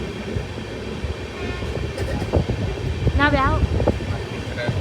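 A 16206 Mysuru–Talguppa passenger train rolls along its route toward Arsikere Junction with a continuous close rumble, rattling clicks and a brief wavering tonal whine partway through.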